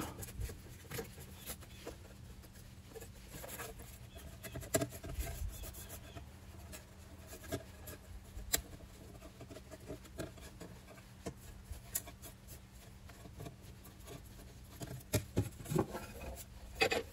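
A cloth wipes across the plastic top of a robotic vacuum during maintenance, a quiet continuous rubbing with small scuffs and taps, close up with no talking.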